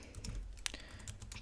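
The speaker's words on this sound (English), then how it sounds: "my typing is not so good today" Quick, light keystrokes on a computer keyboard, typed in bursts while entering commands for Minecraft 1.8, with one sharper key click standing out near the middle; soft and close, with no voices.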